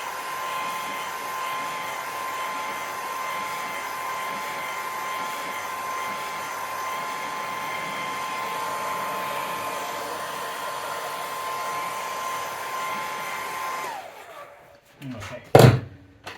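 A hair dryer blows steadily on a watercolor painting, a constant whirring hiss for about fourteen seconds before switching off, followed by a few brief thumps and knocks.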